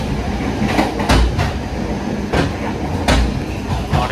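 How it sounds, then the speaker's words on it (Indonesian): Inside the dining car of the KA Pasundan passenger train, a loud, steady rumble of running wheels fills the carriage, punctuated by heavy periodic thumps and clanks from the rails, with a faint voice now and then. "Kalau di kereta makan ini lebih berisik ya teman-teman."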